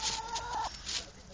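Hens cluck in a backyard flock on a fine summer day, a steady mid-pitched clucking chorus with one sustained call near the start, moderately close and without talk.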